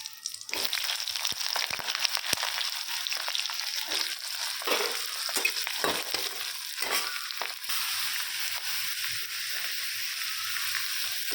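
Brinjal stir-fried in a pan with a tempering of kalo jeera, dried red chilli and green chillies: a loud sizzle with repeated scraping and clattering from stirring, ending in an even, steady frying hiss.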